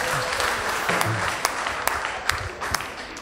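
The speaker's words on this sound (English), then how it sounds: "Give him a round of applause." A crowd applauds steadily at a moderate distance, a dense wash of clapping with a few sharper individual claps standing out.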